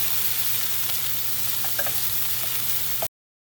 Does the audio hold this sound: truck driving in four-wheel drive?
no